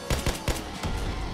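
Gunfire in the Roblox game Zombie Uprising comes as quick, loud repeated shots in short bursts, closely spaced over barely more than a second.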